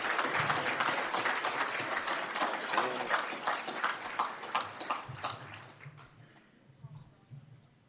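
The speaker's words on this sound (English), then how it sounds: "Let's give the students one more round of applause." Audience applause at a CTE student awards ceremony, steady dense clapping that carries for about six seconds and then thins out and fades toward the end.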